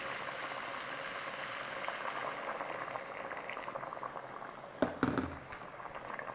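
Hot water poured into a simmering home-style chicken and spinach curry in a pot, giving a quiet continuous bubbling and liquid hiss with a short louder splash near the end.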